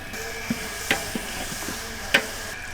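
Garlic paste sizzles and fries in a large pot for mutton biryani, a steady hiss with a few sharp stirring scrapes and pops, close and without talk.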